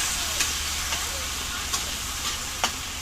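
Tomatoes sautéing in a pan give a steady, even sizzle with a few light taps of a utensil against the pan, close and continuous, with no talk.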